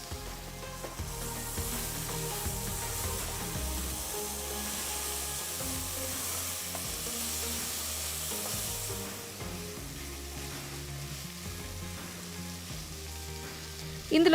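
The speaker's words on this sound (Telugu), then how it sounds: "తర్వాత చిన్నగా కట్ చేసిన 3 మీడియం సైజ్ టొమాటోలని కూడా వేస్తున్నాను." Chopped tomatoes and ginger garlic paste fry in a pan with a steady, soft sizzle that runs throughout, and faint tonal music plays underneath.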